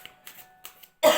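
A few faint breathy sounds, then one loud, abrupt cough bursts out close by at the very end.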